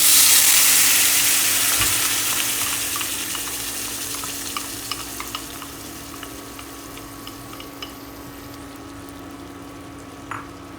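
Ginger, garlic and onion paste hits hot oil with cumin seeds for dal, a loud initial sizzle that gradually settles into a softer fry with occasional stirring clicks and spatula taps, heard close.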